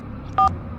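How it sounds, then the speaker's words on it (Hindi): A telephone being dialed: one short, clear keypad tone pulses over a low background hum, with no talking. "पंडित को फोन लगाता हूँ"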